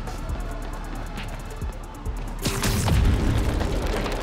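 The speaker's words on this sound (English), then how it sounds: "Never seen a gas line blow like that." A gas line blows in a city street in Spider-Man Miles Morales, a deep loud boom bursting out after a quieter stretch and rolling into a heavy, rumbling roar with crackling debris.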